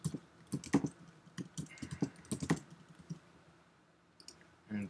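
Keys on a computer keyboard tapped in short irregular bursts while setting a password, close and fairly quiet, with pauses between clusters of clicks and no talk.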